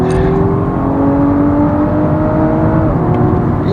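Turbocharged 2-litre four-cylinder BMW M135i xDrive hot hatch revving hard at launch, a loud continuous engine drone with rising harmonic whine held steady for several seconds, close and without talk.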